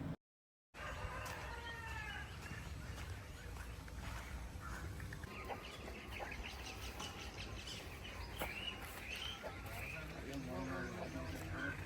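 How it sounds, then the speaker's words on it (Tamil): Crows and sparrows call around a home garden in the morning alongside chickens, a busy mix of caws and chirps close by under steady background noise, with a short dropout at the start. "ஒரு பக்கம் காக்கா குருவிங்க சத்தம், 2 சத்தமும் சேர்ந்து எவ்வளோ சூப்பராக கேட்குது பார்த்தீங்களா?"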